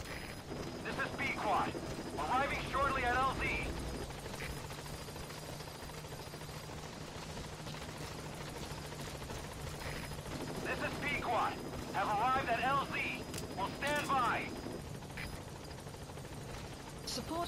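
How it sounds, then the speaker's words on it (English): A support helicopter in Metal Gear Solid V arrives at the landing zone, a continuous rotor drone and rumble throughout, with radio-style voice messages coming through over it twice. "Support helicopter has arrived."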